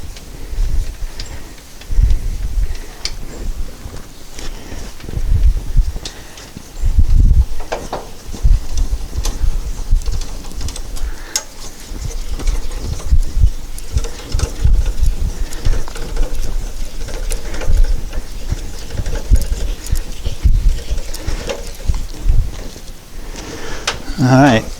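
A crank handle hooked into a jack lifts a 1962 Chevy truck, making repeated ratcheting clicks, clanks and scraping at close range in an uneven rhythm, with a person talking over it.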